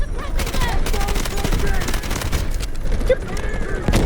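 Turret gunfire in the video game Delta Force, a rapid sustained fusillade of shots over a few seconds, loud and dense, with a player's voice exclaiming over it.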